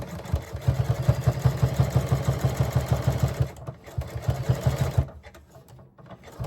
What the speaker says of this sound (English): Just a back stitch right here.